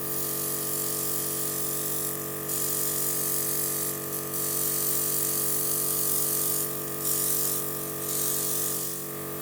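A Luminess Pro airbrush makeup system spraying foundation during a second pass on the face, giving a steady close mechanical compressor hum with a hissy spray that swells in several short bursts.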